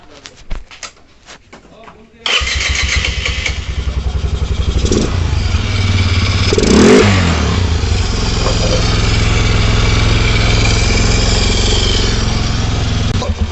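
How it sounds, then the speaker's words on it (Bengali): A Bajaj Discover DTSi 5-speed motorcycle engine, just refitted to its chassis, starts after about two seconds of quiet, then settles into a loud, steady idle close by with a brief rev near the middle. "তো আমরা আগে ইঞ্জিনটা স্টার্ট দেব।"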